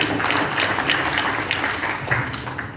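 An audience at a Pan-African culture congress at the Palais du Peuple claps its hands in a brief burst of applause. The clapping is moderately loud and dense, sustained for a few seconds at an even level with no talk.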